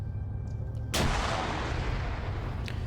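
A grenade goes off in the Arma 3 military game: one sharp blast that cracks out after a quiet moment and then rolls away into a fading, moderately distant tail.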